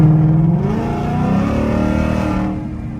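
Close and loud, the exhaust of a Ford Mustang S550 revs up in a rising, rumbling surge, holds, then eases off as the roar tapers away.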